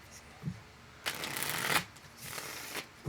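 A tarot deck being shuffled during a Pisces reading, two bursts of riffling card noise, each about a second long, with faint soft taps between them.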